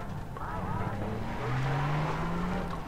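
Car driving in the video game Far Cry 3, a steady engine drone that rises in pitch as it accelerates, with someone talking over it.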